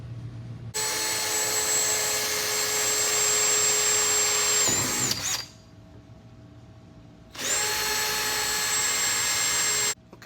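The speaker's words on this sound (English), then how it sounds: "we'll just use a hole saw and get us a couple big spots" Hole saw chewing through the body panel of a NASCAR Craftsman race truck, a loud sustained whining cut in two bursts with a steady high tone, separated by a brief near-quiet pause.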